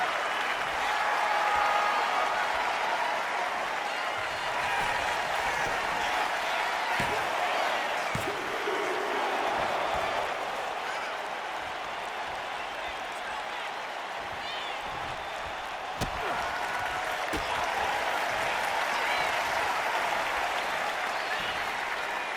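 A WWE 2K25 wrestling arena crowd roars and claps in a continuous, dense wall of cheering that swells and eases slightly but never stops.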